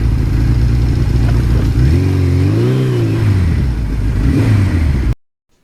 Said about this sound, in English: Every day that you can be out on this bike and experience that engine is a wonderful day.